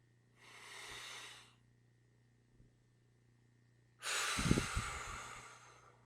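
Slow, deep breathing during a calm breathwork session: a soft drawn breath is followed after a pause by a louder, rushing exhale. Both are close and airy against near silence.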